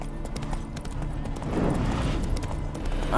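Hooves of the horse Roach clip-clopping in The Witcher 3, a steady rhythmic gait of repeated hoof strikes, moderately close and growing slightly louder.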